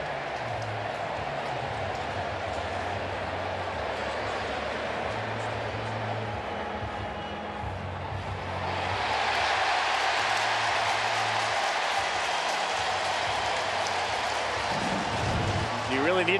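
Crowd noise at a baseball stadium during a Marlins vs Phillies wild card game, a broad roar under an announcer's talk that swells louder midway as fans react to a replay review.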